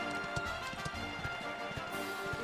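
Horse hooves gallop in a race in the video game Dragon Quest XI, a fast, steady clip-clop rhythm of hoofbeats over a bright, continuous game music and ambience bed, fairly close and without talk.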